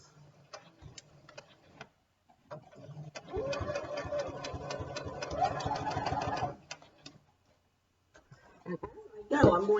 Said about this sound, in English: I'm going to put my presser foot down, get my needle started. Give a little sew, and then I'm going to do a little bit of reverse.